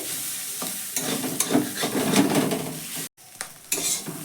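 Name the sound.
egg stir-fried with vegetables in a pan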